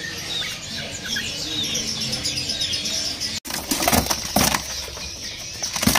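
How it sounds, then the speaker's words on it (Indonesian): Small cicak koreng songbirds and other caged birds at a bird kiosk chirp and twitter in bright, rapid bursts, with fluttering and clattering noises growing busier and closer partway through. "Ini ada burung cicak koreng ya pemirsa."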